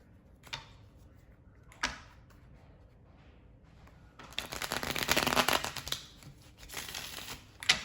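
Tarot cards are shuffled by hand in a few quick riffling bursts after some isolated taps, the shuffling growing into a dense rapid flutter before easing off, close up with no talk.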